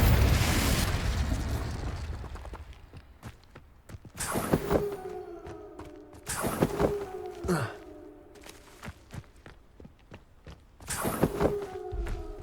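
Confringo blasting spell from Hogwarts Legacy erupting in repeated booming bursts, an initial whoosh followed by several sharp blasts with ringing tonal tails, fairly close and unaccompanied by talk.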